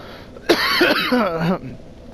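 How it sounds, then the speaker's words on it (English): A single raspy throat-clearing cough from someone getting over a lingering cough, close and fairly loud, lasting about a second before quiet. "I'm still trying to get over this cough."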